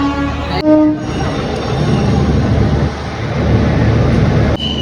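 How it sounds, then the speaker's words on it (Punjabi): A passenger train pulls out of Delhi bound for Amritsar, with a loud steady rumble of carriages rolling on rails throughout and brief horn toots near the start and end. "ਪੂਰੀ 6 ਵਜ ਕੇ 40 ਮਿੰਟ ਤੇ ਟ੍ਰੇਨ ਆਪਣੀ ਤੁਰ ਪਈ ਆ"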